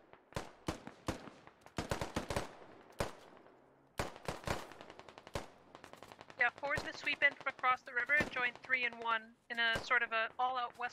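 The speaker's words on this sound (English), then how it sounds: "Try to get some suppressing fire down from two sides." Bursts of machine gun fire in the tactical shooter game Squad, sharp rapid volleys at the start, then continuing shots under steady talk over radio-style voices.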